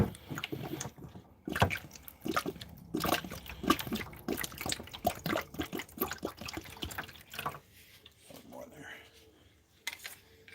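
Water splashes and trickles as a container is dumped out in a video game, a wet pouring wash running beneath steady talking for most of the stretch.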